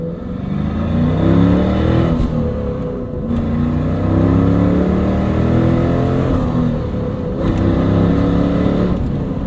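A 1998 Chevrolet Camaro Z28 V8 revs hard while driving, its loud engine note rising and falling in steady harmonic sweeps with brief gear-change dips, heard close with no talk.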